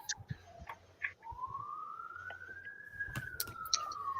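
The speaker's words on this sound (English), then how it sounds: "And I hear sirens." A distant wailing siren rises slowly and then sweeps steadily, faint and far off, under a quiet background with occasional small clicks.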